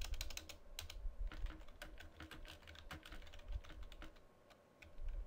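Rapid clicks of a computer keyboard come in uneven bursts as someone enters XML code, close and quiet, with short pauses between keystroke runs.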